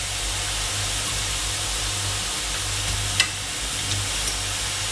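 Leftover peas and broccoli sizzle in a hot pan as soy sauce goes in, a steady close frying hiss with a couple of faint clicks and no talk.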